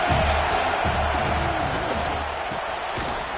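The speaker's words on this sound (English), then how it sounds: "This crowd trying to make life miserable for this offense." Broad, steady stadium crowd roar from an American football video game, a continuous wash of noise with faint low thumps beneath it, heard alone throughout.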